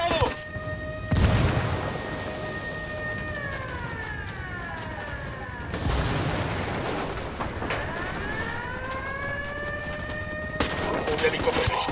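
Bursts of gunfire and heavy booms come from the tactical shooter Ghost Recon Wildlands amid a wailing siren that rises and falls. Loud blasts open and close the sequence, while voices speak over the shooting.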